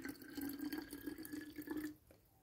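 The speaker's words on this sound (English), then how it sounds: "So you're adding some water because it's too thick." Water poured from a tap or container into a thick hair-care mixture being thinned for a spray-like consistency during loc maintenance, a steady close trickle for about two seconds before it stops.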